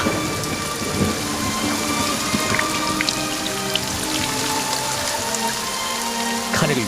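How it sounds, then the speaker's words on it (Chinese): Heavy rain hammers down in a steady, loud roar, with rolling thunder rumbling beneath the downpour and no voices throughout. "最近雨势还挺大"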